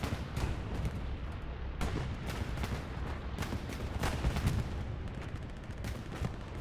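Repeated heavy blasts and gunfire roll through a bombing run during a competitive Hell Let Loose match on Omaha Beach, a dense, continuous wash of booms with sharper cracks punching through the rumble.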